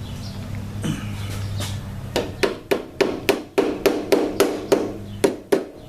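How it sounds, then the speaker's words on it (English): A rubber hammer taps handlebar bushings into place on a 2015 Harley Street Glide, about a dozen dull thuds in a steady rhythm, close and distinct, after a few softer knocks. "Finish tapping in with a rubber hammer."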